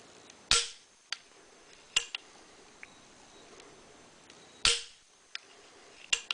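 An AR15 trigger dry-firing after an adjuster install: two sharp, close mechanical snaps with quieter clicks between and after them, in a quiet room.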